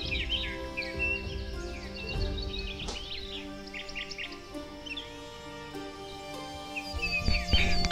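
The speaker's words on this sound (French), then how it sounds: "Il y a un beau rossignol qui est à côté là." A common nightingale sings close by in the wild, with varied rapid trills and whistled phrases. Other birds chirp faintly in the background and there is low outdoor rumble.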